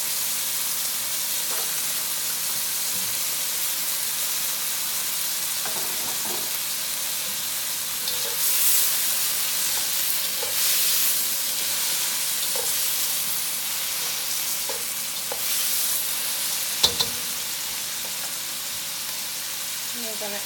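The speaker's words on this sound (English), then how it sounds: "I'm going to add some sliced black olives. And I'm also going to cook down these cherry tomatoes." Cherry tomatoes and sliced black olives frying in a pan, giving a steady, even sizzle that lasts throughout with occasional soft stirring clicks and a sharp tap near the end.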